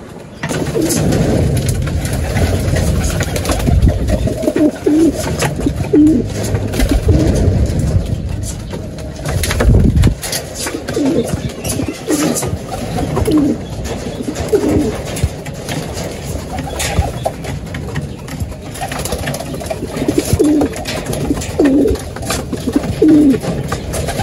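Pigeons being fed bean sprouts in a loft coo repeatedly, close and loud, their soft throaty calls recurring under a steady rumble of background noise.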